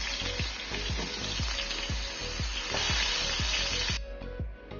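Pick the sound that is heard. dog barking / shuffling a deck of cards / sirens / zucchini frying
zucchini frying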